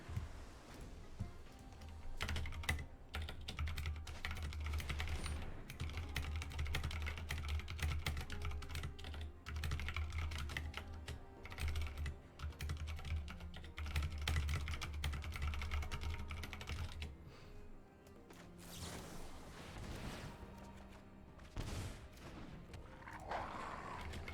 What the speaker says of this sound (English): that typing was me just messaging the person that's working on the raid campaign with me